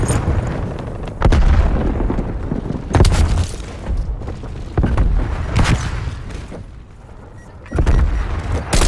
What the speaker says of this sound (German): Werfe Granate. Granate geht raus.